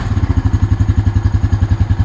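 A 2001 Honda Rancher ATV engine idles close by with a steady, fast, even chugging pulse and a low mechanical clatter, loud and alone.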